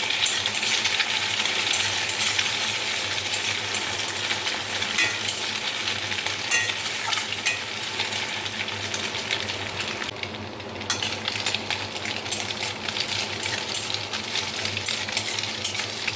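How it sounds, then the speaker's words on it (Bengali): Two eggs fry in hot oil in a pan, giving a steady, dense sizzle that crackles continuously at close range with no voices. "ওই ডিম দুটো দিয়ে দেব খুব ভালোভাবে ভেজে নেবো"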